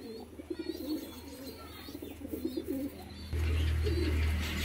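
Low, rolling coos come from an adult pair of pet pigeons, a male and a female, and repeat in soft bursts at close range. A steady, louder hum rises near the end.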